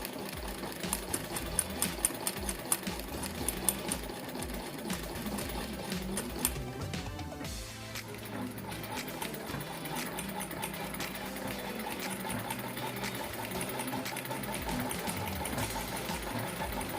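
A sewing machine runs steadily while stitching a straight seam, its rapid needle clatter forming a continuous close mechanical whir with a brief slowdown partway through.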